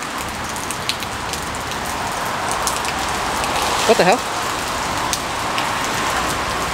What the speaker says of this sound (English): it started to rain again